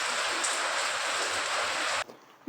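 Heavy rain pours down in a steady, dense hiss onto a rooftop terrace, loud and continuous for about two seconds before cutting out abruptly.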